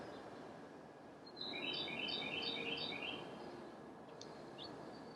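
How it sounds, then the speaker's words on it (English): A bird outdoors gives a quick series of about five or six sharp, repeated chirping calls in an even rhythm. The calls stand out clearly over a steady background hiss and fade away after a couple of seconds. "I hear a bird say, uh-huh"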